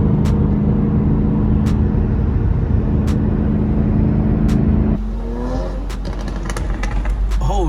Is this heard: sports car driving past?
yes